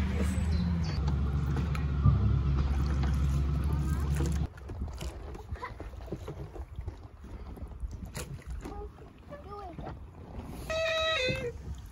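A boat engine drones with a low, steady hum, then cuts off abruptly, leaving wind and scattered quieter background sounds.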